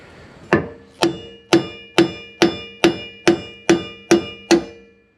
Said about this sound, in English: In case you're wondering, it's a copper hammer.